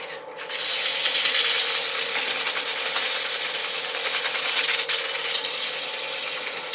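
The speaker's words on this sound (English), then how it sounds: "I do want to take this opportunity to sand up the middle a little bit" Sandpaper rubbing against a wood-turned display stand spinning on a lathe, a steady close hissing scrape with a fine rapid rhythmic texture that runs continuously for several seconds.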